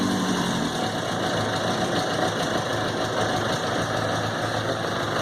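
A 2001 Suzuki Katana 600cc oil-cooled motorcycle engine idles at about 1000 RPM, a steady close-up rumble with a fine rapid pulse, running alone throughout.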